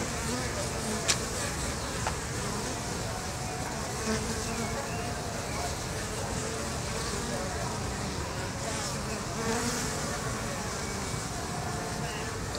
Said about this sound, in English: You okay with the bees? They're not menacing you at all?